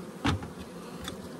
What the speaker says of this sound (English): real nice bees to work with